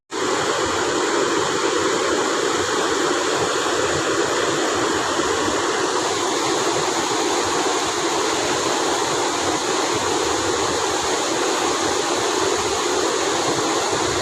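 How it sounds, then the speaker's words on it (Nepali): A flooded Bakaiya river rushes past with a waterfall nearby, a loud, steady roar of water that fills the whole stretch without a break and with no voices. "यतिको बकैया खोलामा बाढी आएको यस्तो हेर्नुस्"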